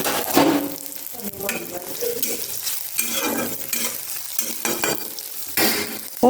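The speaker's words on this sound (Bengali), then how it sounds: "এর মধ্যে একটু 5 ফোড়ন আমি দিয়ে দিচ্ছি।" Panch phoron spices sizzle and crackle in hot oil for a lal shak dish, with a steady frying hiss and stirring scrapes that swell and fade in waves. The sound is close and fairly loud, and no one speaks.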